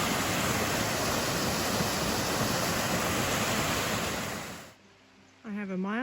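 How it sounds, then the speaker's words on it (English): A waterfall on the Appalachian Trail in Maine roars as a steady, loud wash of falling water for about five seconds, then cuts off abruptly, followed by a brief voice. "I came across this pretty waterfall."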